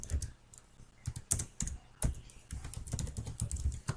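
Rapid clicky keystrokes on a computer keyboard while code is being entered, arriving in uneven bursts with short pauses between them, close and moderately loud, with no voices.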